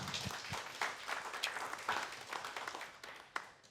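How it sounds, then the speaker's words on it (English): Audience applause at a podcast recording, scattered and fairly light clapping with uneven individual claps standing out, thinning toward the end. "So a round of applause for Farlei,"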